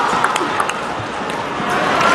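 A table tennis crowd at the 2014 China Open women's singles final reacts to a reverse tomahawk serve with loud, sustained cheering and murmuring in a big arena, broken by a few sharp ball pings.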